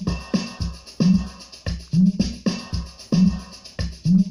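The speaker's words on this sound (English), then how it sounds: "These are my snares." Programmed snare drums from Caustic 3 hit in a steady beat pattern, punchy cracks with short noisy tails, about two per second, fairly loud and clear with no voices.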